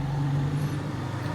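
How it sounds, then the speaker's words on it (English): Motor tricycles drive past on a street in the Philippines, a steady low engine rumble with a faint passing whine, heard alone for about a second and a half. "You can hear the tricycles going by"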